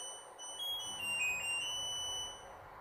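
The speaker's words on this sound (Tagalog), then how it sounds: "sounds niya, yung alarm niya pag tapos na" An LG Twin Wash front-load washing machine sounds its end-of-cycle alarm, a soft, high electronic melody of tones that swells briefly and fades over quiet room noise.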